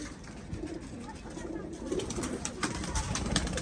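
Flying pigeons, kept for racing or high-flying, give soft repeated coos against a background of nearby bustle and a faint voice.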